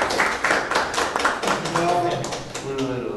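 Audience applause at a talk, a patter of claps that thins and fades near the end, while a few voices speak over it.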